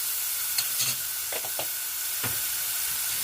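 Garlic fried in ghee sizzles steadily in a pan under a constant close hiss, with a few soft scraping stirs breaking through, and no voices.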